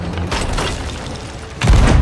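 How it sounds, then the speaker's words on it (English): A ship's cannon fires in the pirate video game Sea of Thieves. A loud, deep boom bursts in near the end over an already rumbling, noisy background. "I'm gonna try to use the cannon."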